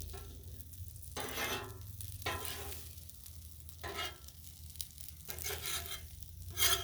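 Gnocchi sizzling on a Blackstone griddle, a steady close hiss of frying punctuated by periodic bursts of scraping and stirring with a spatula, no talk.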